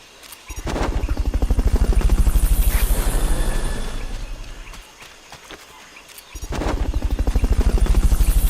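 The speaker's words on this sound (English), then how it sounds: "Fulton recovery helicopter is complete." A loud, rapid rhythmic chopping of helicopter rotor blades in Metal Gear Solid: Peace Walker, fading down in the middle and then swelling back up close by.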